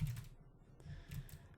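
Keys clatter on a computer keyboard as a help command is typed, a short run of quiet, close clicks with a brief pause in the middle.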